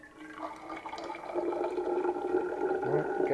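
Slightly cooled boiled water pours into a Hydro Flask bottle, a soft trickling and splashing that builds steadily in volume as the stream fills the vessel, faint and close with no talking.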